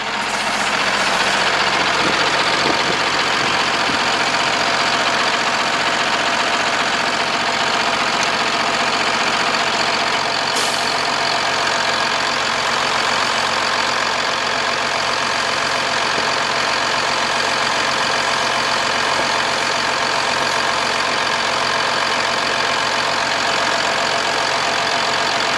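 A Freightliner Business Class M2 service truck with a Cummins ISB 6.7 diesel idles steadily and loudly up close, a constant low rumble with light knocking texture that runs the whole time with no talking.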